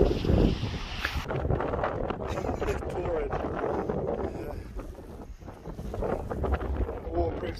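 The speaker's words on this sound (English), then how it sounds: "Definitely a bit of a windy one today" Wind blowing outdoors on a rainy day buffets the microphone with a constant rough rumble, while a person talks over it.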